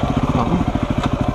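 Motorcycle engine revving briefly while riding a rough, rocky natural trail, a steady pulsing mid-range thrum with a quick rise in pitch, close and loud, alone.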